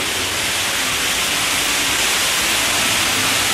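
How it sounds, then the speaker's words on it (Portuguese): Water pours down steadily from a cascade shower in a dark enclosed spot, a dense, even, close hiss that stays constant with no breaks and no talking. "Chegamos na ducha cascata."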